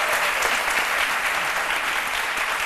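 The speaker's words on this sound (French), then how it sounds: "On l'applaudit très" Loud, dense audience applause at a French television talk show fills the whole stretch, steady and close with no pauses.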